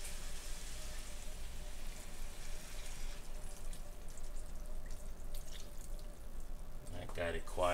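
Two cups of water pour into a cooking pot of picadillo with potatoes, a soft steady trickling and dripping that stays faint throughout, with a brief louder clatter near the end.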